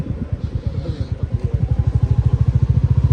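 Motorcycle riding into a hotel parking area near a gurdwara on the road from Rishikesh to Govind Ghat, with its engine thumping in a fast, steady pulse that grows louder and quicker up close, alone with no talking.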